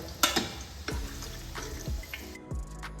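Chicken kofta frying in hot oil, a steady crackling sizzle broken by several sharp clinks and scrapes of a utensil stirring and lifting the pieces out of the pan.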